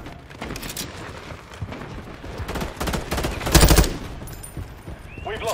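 Rapid automatic gunfire from Call of Duty Modern Warfare 3 multiplayer on PC, dense bursts and shots throughout with one louder blast near the middle, amid busy battle noise.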